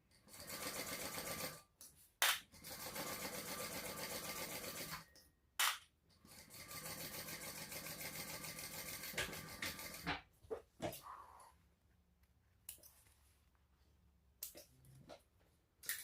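A sewing machine stitches a quarter-inch seam through red pack cloth for a shoulder sling bag, running in long steady bursts with short pauses, then lighter handling rustles and clicks toward the end.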